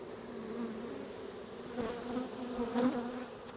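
Honey bees buzzing around nuc frames at a beehive, a steady close droning hum with a couple of brief louder passes as bees fly near.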